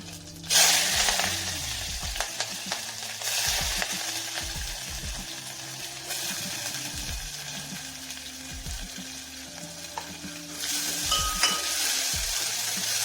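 Onions and green chillies sizzle and crackle steadily in hot oil with cumin seeds for a Telugu birakaya tomato curry, with the loud frying broken by repeated ladle stirs and scrapes against the pan.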